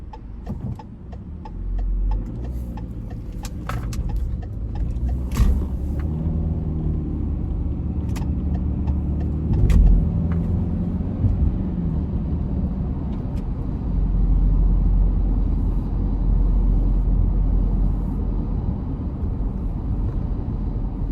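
Rush-hour road traffic in town: a continuous low rumble of passing cars and engines, steady and fairly close, with occasional brief louder vehicle passes and no talking.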